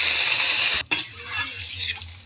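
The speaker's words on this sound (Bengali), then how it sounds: "এরপর আমি জল দিয়ে দিচ্ছি" Water poured into a pan of curry of potatoes and okra frying with cumin and chilli powder, a steady hiss of sizzling that breaks off briefly, then continues as a softer bubbling simmer close by.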